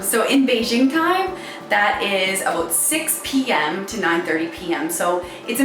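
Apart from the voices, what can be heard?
No everyday noises stand out.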